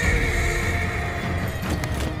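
A horse whinnies in a video game boss fight, a loud, drawn-out neigh against a rumbling, clattering game backdrop with no speech.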